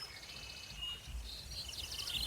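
Soft outdoor ambience with repeated high chirps and bird calls, a low rumble of wind underneath, and faint insect tones in the background.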